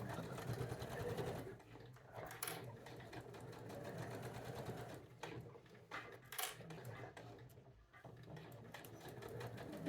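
Sewing machine stitching fabric for a vintage floral card and coin purse, running in steady bursts with brief pauses, close and fairly loud throughout.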